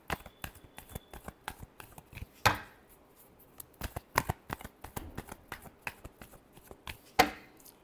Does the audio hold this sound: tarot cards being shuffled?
yes